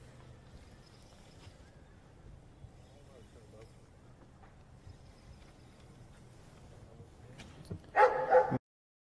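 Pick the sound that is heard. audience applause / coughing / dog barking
dog barking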